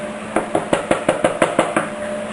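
Eight sharp knocks in an even, quick rhythm as a herbal soap mold is rapped against a glass surface, close and clear, with no talk.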